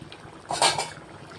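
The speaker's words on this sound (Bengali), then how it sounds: "এবার আমি এর মধ্যে ভেজে রাখা যে মাছগুলো আছে, মানে চিংড়ি মাছগুলো, সেটা অ্যাড করে দেবো।" Fried prawns tipped into boiling dal in a pot give a short clatter and splash lasting under a second, with faint bubbling before and after and no talking.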